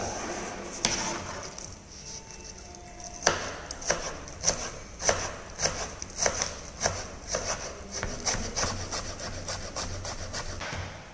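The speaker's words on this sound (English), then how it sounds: "We will chop spring onions for making baingan bharta." A kitchen knife chops spring onions on a cutting board, a steady run of sharp, close taps with brief pauses between bursts, fairly loud and alone with no talk.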